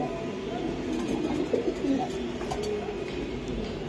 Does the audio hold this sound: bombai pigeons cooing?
yes